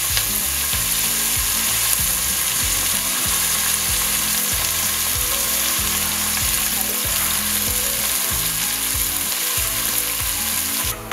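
Four onions fry in hot oil with bay leaf, cinnamon, star anise and cloves, a loud, continuous sizzle with a regular rhythmic clatter running through it.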